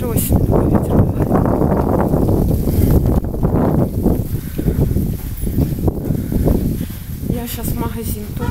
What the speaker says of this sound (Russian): даже осенью такой ветер бывает